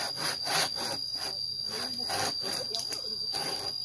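A hand saw cuts through wood outdoors in a forest, pushed in steady back-and-forth strokes, roughly two per second, each a rasping broadband scrape, close and fairly loud throughout.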